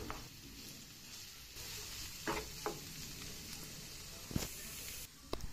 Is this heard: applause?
no